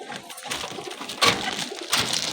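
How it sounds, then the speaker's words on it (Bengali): A pair of pigeons coo softly close by, with two stronger bursts of cooing standing out against faint background noise. "খুব সুন্দর পায়রা দুটো"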